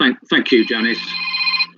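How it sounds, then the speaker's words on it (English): A mobile phone ringtone goes off during a council panel meeting, a steady electronic ringing tone that holds for about a second and a half while a person keeps talking over its start. "That was my phone, so apologies for that."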